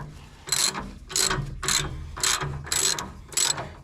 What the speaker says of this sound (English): next we're going to pull out these 3 bolts that hold the filter in place